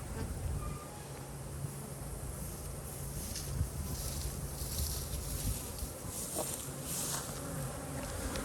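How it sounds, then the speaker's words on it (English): Honey bees pour out of a hive during a VarroxSan mite treatment at an apiary, their dense, steady buzzing filling the air close by, with faint wind in the background. "Look how much these bees have come out."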